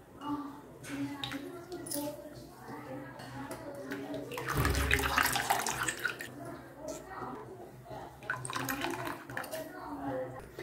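Fresh rose petals are squeezed by hand in water, giving wet squelching and splashing bursts that swell in the middle, with a voice talking over them.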